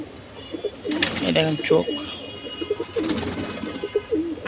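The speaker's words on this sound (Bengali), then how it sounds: "একটা সিলভার নর, খুব ভালো, ছাড়া ছাড়ির জন্য অনেক ভালো কবুতর" A silver male pigeon coos in low repeated bursts close by, while someone talks over it and other birds murmur in the background.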